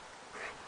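A dog whimpers briefly, a short thin whine heard faintly indoors, with no voices.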